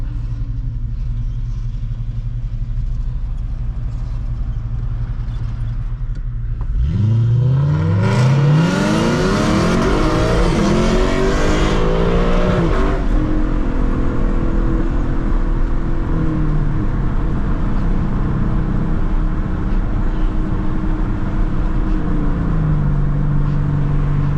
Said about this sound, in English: ISF sounds so good. That is PPE equal length headers, and I forgot what exhaust.